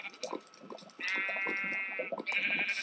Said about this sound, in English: Sheep is walking on lava.